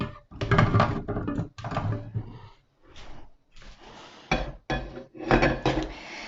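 Potatoes tumbling into the metal bowl of a Monsieur Cuisine Connect food processor fitted with its butterfly whisk, a series of loud clattering knocks in irregular bursts separated by short pauses.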